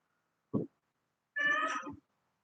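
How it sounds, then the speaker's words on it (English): A cat with separation anxiety calls out indoors: one short, clipped yowl, then a longer, drawn-out wailing meow a moment later, close and loud against silence. "If you hear screaming in the background, that's one of my cats who has separation anxiety."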